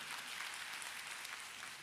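A church congregation applauds after a song at a newcomers' worship service, a steady wash of clapping that holds evenly throughout at a soft, somewhat distant level.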